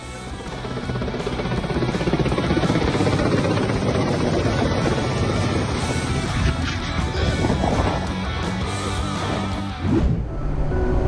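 A Ka-52 attack helicopter roars loudly and continuously with heavy rotor chop and wind buffeting, very close, briefly dipping near the end.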